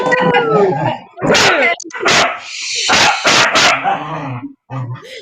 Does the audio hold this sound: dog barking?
yes